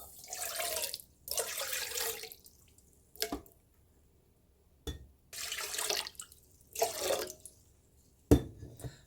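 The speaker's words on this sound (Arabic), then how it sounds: "غادي نخوي عليها واحد شويه ديال الماء" Water poured by hand into semolina dough, several short splashing streams separated by pauses, close and fairly soft, with a couple of small knocks in between.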